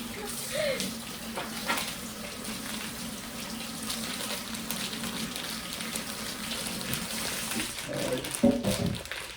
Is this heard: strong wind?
no